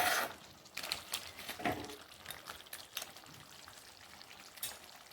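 Crab pepper fry sizzles in a pan, a steady crackling hiss with a few sharper spits and scrapes near the start, then a quieter even sizzle.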